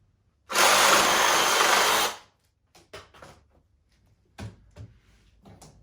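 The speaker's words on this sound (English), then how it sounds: "I drilled some holes through the back and attached it using wood screws." A power drill bores a hole through wood in one loud, steady burst of about a second and a half, then stops, leaving a few short knocks and handling thumps nearby.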